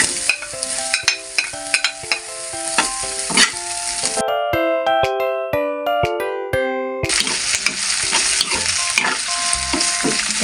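Carrots and potatoes fry in a pan with a loud, steady sizzle, broken by scraping stir strokes. Midway the sizzle drops away for a few seconds, leaving clinks and utensil taps, then returns at full strength.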